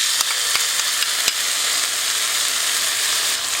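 Garlic and onions sauté in a pan for baked spaghetti, producing a loud, steady, dense sizzle with a few faint clicks of stirring, close up and uninterrupted.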